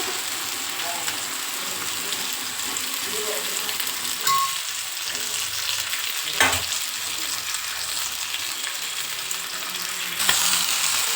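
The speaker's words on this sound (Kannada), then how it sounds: "ಎಷ್ಟಾಗುತ್ತೆ ಅಷ್ಟು ಫಿಶ್ ಹಾಕ್ಬಿಟ್ಟು 2 ಕಡೆನೂ ಚೆನ್ನಾಗಿ ಫ್ರೈ ಮಾಡ್ಕೊಳ್ಳಿ" Fish fries in oil on a flat tawa with a steady broadband sizzle, with brief scrapes and clinks of turning at intervals and no voices.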